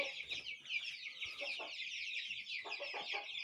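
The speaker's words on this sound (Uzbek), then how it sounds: "sotiladigan jo'jalar." Young chicks kept for sale peep and chirp in a high, busy chorus, with occasional low clucks from nearby fowl throughout.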